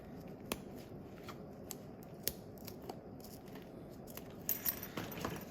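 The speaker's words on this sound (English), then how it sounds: "take my scissors and try to cut evenly, just straight across this track" Quiet, crisp scissor snips cut straight across a zipper track, a handful of sharp clicks over a soft rustling background.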